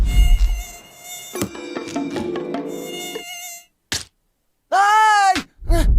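High whining buzz of cartoon mosquitoes from The Simpsons, several tones sustained then stopping, followed by thuds and a groaning cartoonish voice.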